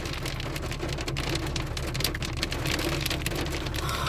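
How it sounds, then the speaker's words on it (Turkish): Dense, steady patter of hail pelting a surface in Germany, constant and fairly loud throughout, with no voices. "Şu anda dolular yağıyor."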